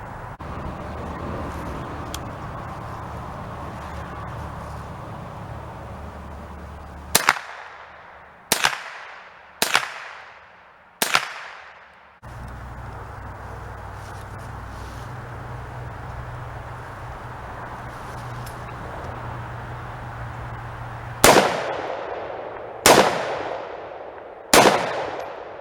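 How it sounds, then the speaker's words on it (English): Rifles fired at shooting practice: seven sharp, loud shots with ringing decays, four spaced a second or so apart, then a long steady outdoor hum, then three more shots in a closing group. "I've been practicing with a couple of my rifles."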